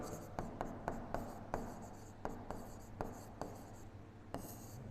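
A teacher writes on a classroom board, with a series of quick tapping and scratching strokes in an uneven rhythm, close and fairly quiet, while a little faint talking is heard in the background.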